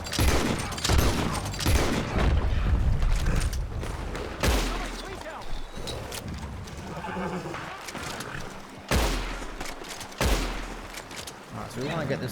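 Gunfire in the video game Red Dead Online: several sharp shots crack out amid horse whinnies and hoofbeats, with game noise and a voice speaking throughout.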